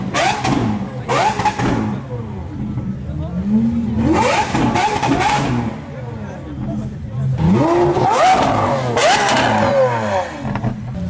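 A Lamborghini SVJ roars past at a busy car show, its engine revving hard in several rising surges, loud and close, with people talking over the noise.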